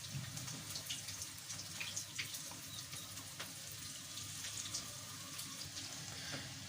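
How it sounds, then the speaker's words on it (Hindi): Rooh Afza syrup pours into glasses in a kitchen, a faint, steady liquid trickle with small splashes running continuously throughout, with no talk. "गिलासों में थोड़ा थोड़ा सा जो है वो रूह अफ़ज़ा जो है इस तरीके से डालेंगे"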